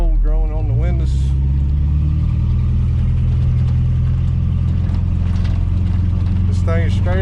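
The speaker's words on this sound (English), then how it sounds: "Now we cruising down the road" An old, crusty Chevrolet C10 pickup truck long left sitting in a backyard, cruising down the road with a loud, steady low engine drone, while voices talk over it in places.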